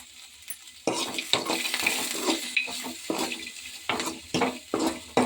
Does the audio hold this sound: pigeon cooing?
no